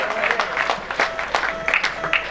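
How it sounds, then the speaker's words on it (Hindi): Applause at a school farewell party for Class 10 at Al Quddus Public Boys High School, heard as scattered, uneven bursts of clapping from a crowd, with voices mixed in. "काजिम साहब के लिए जोरदार तालियां"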